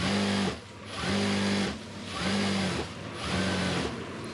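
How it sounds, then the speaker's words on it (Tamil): A sewing machine stitches a nightie in bursts of rapid, whirring needle strokes, four runs separated by brief pauses, close and fairly loud with no talk. "நைட்டி மட்டும்தான் தையல் அடிக்கிறேன்"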